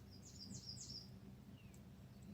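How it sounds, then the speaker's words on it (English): Birds chirp outdoors on a July evening near the water, a short cluster of faint, distant high tweets followed by a few sparse calls over low background rumble. "We've got a few birds chirping in the background"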